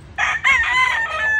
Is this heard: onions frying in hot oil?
no